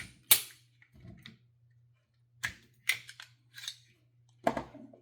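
Metal parts of a Stoeger STR compact pistol clicking and snapping during disassembly, several sharp close clacks separated by short pauses and no talking.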